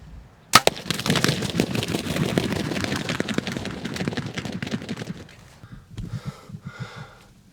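A single loud shotgun-style blast fired at a turkey gobbler during a hunt in the woods, followed by several seconds of rustling, flapping commotion and breathing, then quieter scattered sounds.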